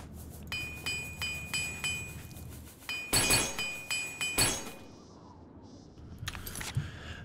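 In the Oblivion video game, armor repair plays as a string of bright metallic clinks and rings, about eight evenly spaced strikes followed by a louder burst of clanks, then silence and a couple of last faint clatters.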